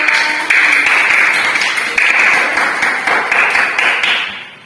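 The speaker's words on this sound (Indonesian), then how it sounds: "Ya, tepuk tangan untuk kelompok 2." A classroom of students claps for a presenting group during a school lesson, giving a burst of fairly loud, close applause that swells in waves and fades away at the end.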